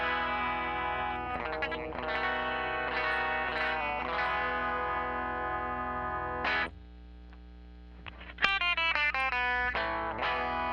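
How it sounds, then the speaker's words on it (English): Electric guitar through a Dynacomp compressor pedal with an effects chain, playing sustained, evenly leveled chords, then a brief near-silent dip before bright picked notes resume, loud and close with no talking. "Can really hear that compression though."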